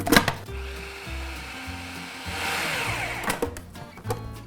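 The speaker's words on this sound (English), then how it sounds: "There's a couple pieces of onion in there that I want to pulverize." A food processor pulverizes a few leftover onion pieces in a vegan mixture, running in several short pulsed bursts with brief pauses between them, fairly close and steady, without talk.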